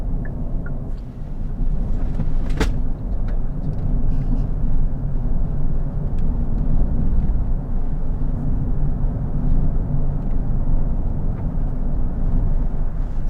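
A 2025 Hyundai IONIQ 5 N accelerating hard, a steady low road-and-motor roar that holds for the whole stretch with wind buffeting over it and a brief sharp click near the start.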